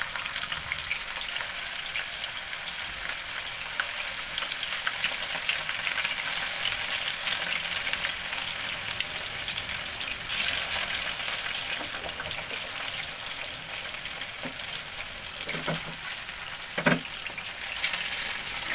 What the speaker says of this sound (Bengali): ফ্রাই প্যানে একসাথে 10 পিস মাংস দিয়ে দিলাম